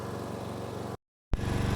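A Cub Cadet lawn tractor engine running steadily at a constant droning pitch, close and loud, cut by a brief silent gap before it resumes.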